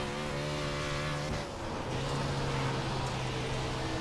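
A non-wing dirt race car tears around the Bristol dirt track in iRacing, its engine droning loud and steady with a strong buzzing tone that dips briefly as the revs shift, then climbs back up.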